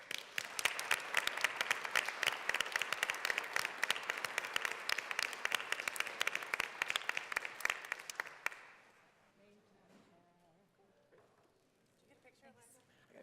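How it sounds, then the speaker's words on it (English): Sustained applause fills a legislative chamber during a Colorado House floor session, loud and dense for about eight seconds before cutting off abruptly, leaving faint room noise and soft movement. "Can we give them a round of applause?"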